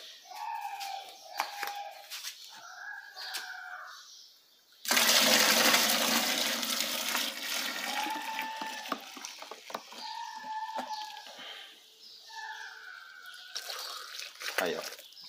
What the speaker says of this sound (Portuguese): agora aqui eu vou colocar os outros 20 litros de água